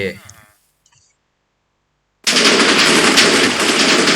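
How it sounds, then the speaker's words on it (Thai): A brief voice, then near silence, then a sudden loud roar of TNT explosions in modded Minecraft inside a villager house, a dense crackling blast that keeps going. "เดี๋ยวเรามา ระเบิดในบ้านวิลเลเจอร์เลยเดี๋ยวครับ"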